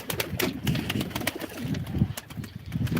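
Pigeons at a live pigeon auction, with close, low throaty cooing and rustling, plus scattered sharp clicks throughout.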